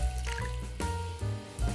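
A brine of equal parts vinegar, water and soy sauce is poured over roasted onions for pickling, a short close gurgling pour that rises and falls in a few splashy bursts.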